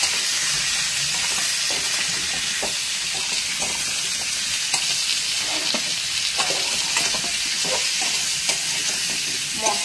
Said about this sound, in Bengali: একটু লবণ দিয়ে এটাকে আমি খুব ভালোভাবে এরপর কষিয়ে নিচ্ছি।